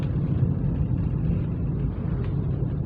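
2024 Toyota Agya car engine running steadily while gears are shifted, a continuous low rumbling hum from inside the cabin with little change in loudness.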